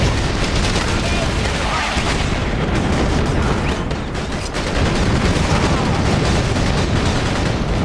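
Constant, loud battlefield gunfire and booming blasts in a war video game, a dense unbroken wall of shots and explosions with a brief dip midway.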